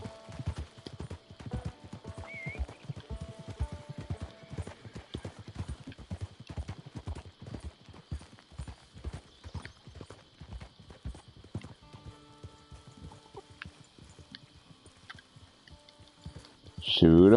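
Horse hooves clip-clop steadily at a walking pace in the Red Dead Online video game, a continuous rhythmic patter with occasional talk over it and a louder burst at the end.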